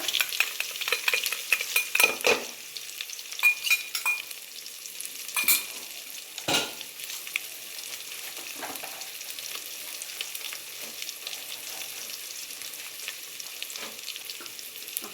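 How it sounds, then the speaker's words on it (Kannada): Garlic, chilies and cumin-pepper powder fry in a pan, giving a steady crackling sizzle with occasional stirring scrapes, close and without speech. "ಬೆಳ್ಳುಳ್ಳಿ ಹಾಕಿದ ತಕ್ಷಣ ಮೆಣಸಿನ್ಕಾಯಿ ಹಾಗೆ ಜೀರಿಗೆ ಮೆಣಸು ಪುಡಿನೂ ಹಾಕೋಬಿಡೋಣ"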